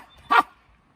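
A single short dog bark, sharp and close, in otherwise quiet surroundings.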